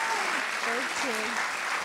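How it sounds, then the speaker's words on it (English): A crowd claps continuously and fairly loudly, a dense steady wash of applause from start to finish. "Please give another round of applause to Liliana."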